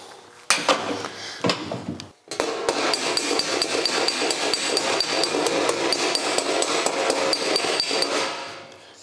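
A hammer strikes sheet metal against a dolly to work out dents, giving rapid, sharp metallic taps close by. A few separate blows come first, then a brief pause, then a steady fast run of ringing strikes that fades at the end.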